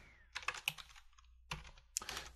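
Typing on a computer keyboard, quick bursts of close key clicks separated by a short pause.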